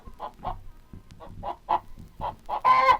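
Chickens cluck in a series of short, bright calls in irregular rhythm, ending with a louder, drawn-out squawk, heard alone without talk, from a bilingual Montreal children's television program.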